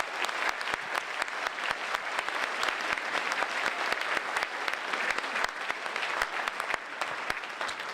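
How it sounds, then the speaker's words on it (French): An audience at a meeting applauds team members, a sustained round of many hands clapping at moderate volume with sharp individual claps standing out throughout. "Vous les connaissez toutes et tous, et vous pouvez les applaudir."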